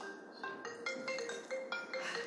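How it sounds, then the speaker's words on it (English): A mobile phone rings with a melodic ringtone: a steady run of stepped, bright electronic tones repeating in short phrases, fairly close and clear, with no talking over it. "That's probably my phone going off"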